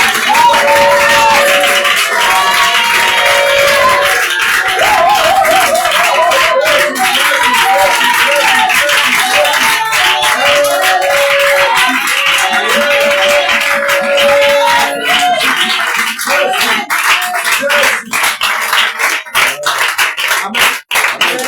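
Church congregation at an evening worship service clapping and cheering loudly and continuously, a dense wash of applause and voices with music-like tones underneath throughout.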